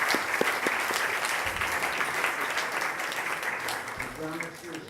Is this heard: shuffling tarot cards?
no